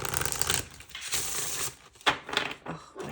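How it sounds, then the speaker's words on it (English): Tarot card decks are shuffled by hand at close range, giving rapid riffling bursts with short pauses and crisp snaps between them, mostly without talk. "all three of these decks are amazing to shuffle"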